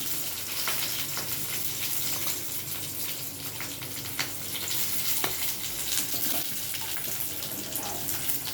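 Onions sauté in a hot pan for Tamil-style tomato chutney served with puri, a continuous close sizzle and crackle with occasional stirring clicks and scrapes throughout.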